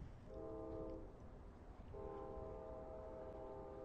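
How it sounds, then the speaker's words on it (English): A distant Long Island Rail Road train horn sounds twice at the Smith Road crossing near Mastic-Shirley, a short blast then a longer one, faint over a low steady rumble. "You may hear the horn."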